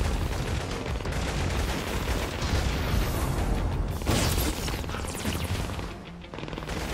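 Dense, constant gunfire fills a battle in the video game inFamous: First Light, with rapid shots and bursts overlapping into a loud, continuous clatter that dips slightly near the end.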